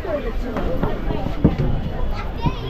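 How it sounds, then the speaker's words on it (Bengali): Crowd hubbub aboard the Maa Tara Express on Holi, a steady babble of many voices close around with scattered clatter and knocks, people talking throughout. "এই হচ্ছে মাতারা এক্সপ্রেসে হোলির দিনে ভিড় দেখো"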